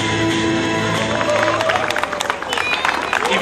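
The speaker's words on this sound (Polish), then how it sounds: "I wielkie brawa Bartka!" A crowd applauds and cheers an illusionist who has just escaped a straitjacket while hanging high from a construction crane at an outdoor show in Katowice. The dense clapping runs steadily throughout beneath a voice speaking over it.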